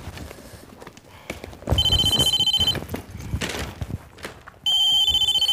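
A telephone rings in two loud, steady electronic bursts indoors, separated by a pause filled with shuffling and footsteps.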